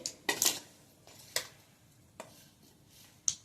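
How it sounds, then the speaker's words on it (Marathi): Spice masala and salt being stirred together for an instant vegetable pickle, heard as a few sharp scraping clinks of a spoon against a bowl spaced apart, close and fairly quiet with no talk. "इकडं हा मसाला आणि मीठ व्यवस्थित मिक्स करून घेते"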